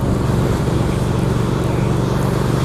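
A 2019 Triumph Speed Twin motorcycle with a Vance & Hines exhaust gives a deep, steady engine rumble at constant idle, loud and close, with a strong low throb and no voices.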